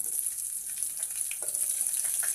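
Mustard seeds, cumin and green chillies sizzling in hot oil for a Telugu chaaru dish, a steady bright hiss with small pops and crackles throughout, close and alone.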